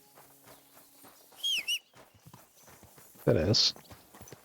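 Horse hooves clip-clop briefly in the video game Kingdom Come Deliverance 2, a short loud burst of hoofbeats near the end, with a whinny-like cry earlier and someone talking lightly over the scene.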